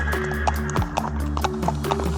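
Horses walk over uneven mountain terrain, hooves clip-clopping in a steady, close rhythm of footfalls, with a low continuous rumble underneath.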